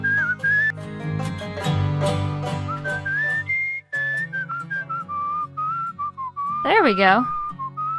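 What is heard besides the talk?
character whistling in the video game Where The Water Tastes Like Wine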